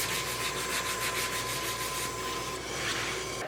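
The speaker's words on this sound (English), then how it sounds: "Next I cut the sign board to length and then sanded those ends." An end of a wooden sign board is sanded after being cut to length, a rough rhythmic rubbing with quick repeated strokes over a steady background hum, close and with no speech.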